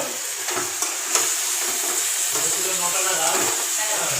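Water spinach fries in a pan with a ground mustard paste while being stirred, giving a steady close sizzle with scraping stirs and a few clinks throughout.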